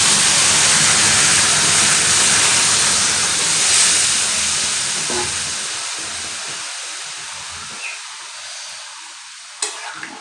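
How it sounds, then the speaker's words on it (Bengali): Hot water hits a pan of frying mixed dal tempering with a loud, broad hiss and sizzle that gradually fades and softens over several seconds, leaving faint bubbling and a small clink. "তো এবারে আমি কিন্তু গরম জলটা দিয়ে দিচ্ছি।"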